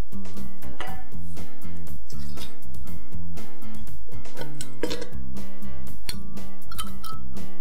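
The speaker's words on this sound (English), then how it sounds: "Let's throw in some ice cubes." Ice cubes clink and rattle into a glass for a pomegranate ginger mocktail, a run of bright clinking hits and ringing taps, loud and close, with no talk.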